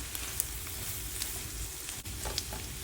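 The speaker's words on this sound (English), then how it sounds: "Let's get us a little stir in here, get them mixed up with these veggies." Crawfish tails and vegetables sizzle in a hot pan, a constant crackling fry with scattered sharp pops and a spatula scraping through once, close and fairly quiet, with no voices.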